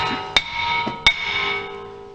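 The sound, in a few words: hammer hitting a rusted brake rotor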